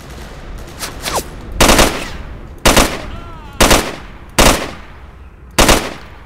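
Gunfire in the shooter S.T.A.L.K.E.R. Call of Chernobyl: loud, close bursts of automatic fire recur about every second, each a short sharp rattle over quieter background noise.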